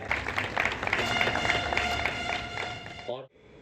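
Audience applause at a two-day classical music rhythm festival, a steady wash of clapping with distinct claps and a tonal ring running through it, holding for about three seconds before cutting off abruptly.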